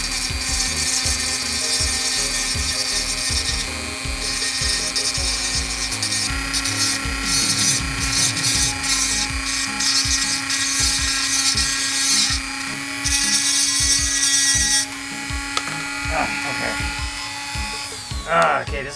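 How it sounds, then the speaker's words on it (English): A rotary tool fitted with a small tapered bit grinds plastic on a lighted crystal saber insert, a loud steady high whine broken by short pauses and changes in load, running nearly throughout. "Let's use this little tapered bit here."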